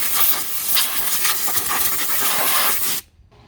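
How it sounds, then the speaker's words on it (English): Compressed air blasts through a long extension nozzle while blowing debris off a Cub Cadet XT2 riding lawn mower, a loud continuous hiss for about three seconds that cuts off abruptly, with no talk. "So anytime I'm using compressed air, I really like these long extensions."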